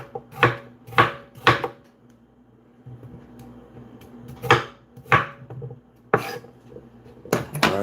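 Knife chopping potatoes on a cutting board in a home kitchen, sharp thuds in quick clusters of two or three, separated by quieter pauses, close and clear with no talking.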